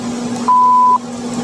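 A single steady electronic beep, about half a second long, sounds over a faint background hum.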